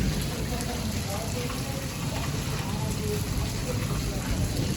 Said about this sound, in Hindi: बहुत ज़्यादा बारिश हो रही